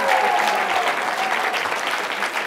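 An audience at a live Young America's Foundation speaking event breaks into a round of applause, a loud, dense wash of clapping that carries through the whole moment at a steady, full level.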